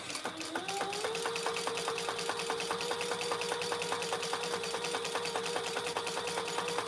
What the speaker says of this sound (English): we're going to do the same thing, 2 rows of top stitching